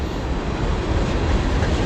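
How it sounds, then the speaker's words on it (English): An old train at the Philadelphia terminal passes close by, a loud continuous rumble of rolling rail cars without pause or talk. "Hey, check out the train."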